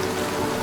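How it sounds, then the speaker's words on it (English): A brief burst of steady rain pattering on a surface, an even, close hiss of falling drops with no voices. "a cool shower of rain fell around 2 p.m."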